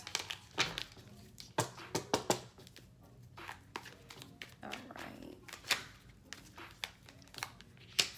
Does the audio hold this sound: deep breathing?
no